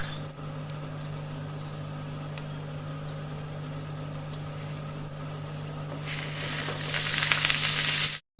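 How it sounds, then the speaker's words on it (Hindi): Steady sizzling crackle of crushed black pepper and coriander frying in hot oil, close and continuous, growing brighter and louder near the end before cutting off. "गरम तेल में कुटी हुई काली मिर्च और धनिया का तड़का लगाया"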